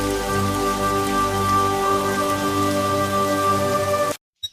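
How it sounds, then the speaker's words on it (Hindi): Steady rain sound effect for a cartoon story, a dense even patter of drops falling continuously and fairly loud, then cutting off abruptly near the end. "बारिश की बूंदें उनके चेहरों पर गिर रही थी"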